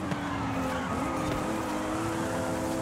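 A racing car in Forza Horizon 5 drifts on the Emerald Circuit: a loud, steady engine drone runs with a sliding tire whine, close and continuous the whole time, with no voices.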